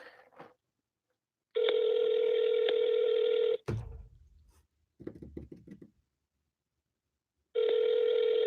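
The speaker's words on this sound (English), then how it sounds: "Justin, pick up the phone, my man." Phone tones from a cold call: long steady ringback bursts start and stop, separated by a short clunk, a stretch of rustling and silence, with another ring at the end. Nobody talks.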